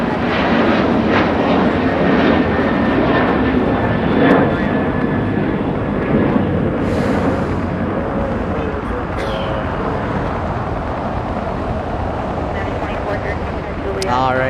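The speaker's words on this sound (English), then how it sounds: "here it is, touching down right in front of us." A passenger airplane landing at Los Angeles airport roars loudly and steadily with a broad engine rumble and whine that fades slightly as it touches down, while a person talks over it.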